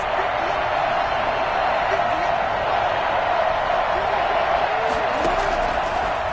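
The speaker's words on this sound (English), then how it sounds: "this is where the Arrowhead crowd can make it very tough" Broad, steady roar of a football stadium crowd at Arrowhead in a Madden game, loud and continuous with faint whistles and shouts rising through it, and no clear break for the whole stretch.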